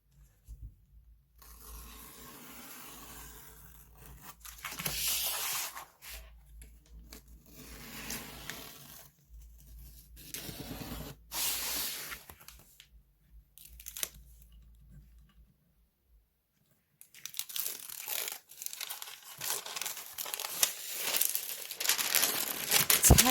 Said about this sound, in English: I'm going to take a seam ripper, and I'm just going to score around the edge.